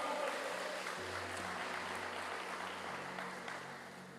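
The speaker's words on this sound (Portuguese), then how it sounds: "Você pode aplaudir ao Senhor em nome de Jesus." Church congregation at an honor-culture seminar applauding, a constant mid-level patter of many hands under a faint low sustained organ-like tone that shifts pitch partway through.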